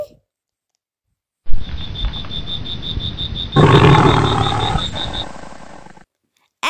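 A roaring lion, one loud, sustained growl that swells midway and then fades, set under a repeating electronic click-like pattern in a children's alphabet song, with no speech over it.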